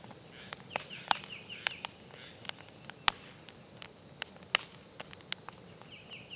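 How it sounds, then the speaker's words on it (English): Early summer birds and frogs calling outdoors around a wood heap, sharp scattered chirps and croaks spaced irregularly over a quiet, faint background. "The background sounds you hear are some of our early summer birds and frogs croaking"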